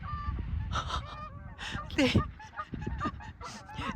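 Several Canada geese honk loudly and repeatedly nearby, harsh overlapping calls rising and falling, with a person's voice briefly mixed in.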